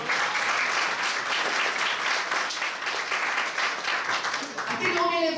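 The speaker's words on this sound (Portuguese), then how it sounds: "Quem dá uma salva de palmas?" A church congregation applauding in a dense, steady wash of clapping that holds for several seconds, with a voice rising over it at the very end.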